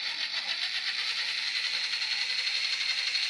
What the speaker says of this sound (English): there's a little bit of noise coming from the axles, from the drive shaft